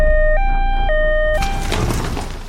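An ambulance siren wails in a loud two-tone pattern, stepping between high and low pitches, then gives way to a noisier burst as the clip fades.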